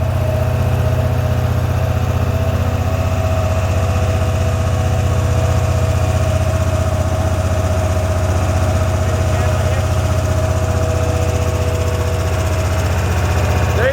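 Amtex Marine 4047 carpet cleaning machine engine idling steadily before shutdown, a loud continuous low drone with a constant mechanical hum and vibration throughout.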